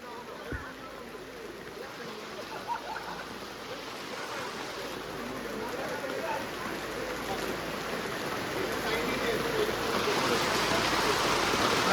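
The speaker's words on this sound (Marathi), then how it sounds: "पाऊस काय थांबत नाही." Steady rain hisses continuously during an Independence Day bike ride, a broad wash of noise that grows slightly louder toward the end, with faint voices in the background.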